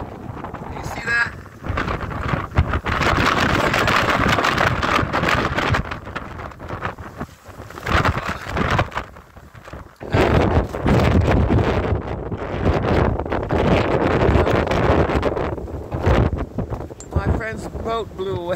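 Strong windstorm on San Francisco Bay at Sausalito, loud roaring gusts battering the microphone almost continuously, with brief lulls and a voice speaking near the end.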